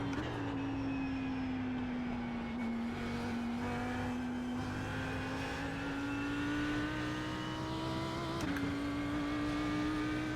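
A race car engine in the iRacing sim at Watkins Glen holds a steady, sustained high-rev drone, with pitch drifting slightly through the corners and a brief blip near the end, continuous and fairly quiet.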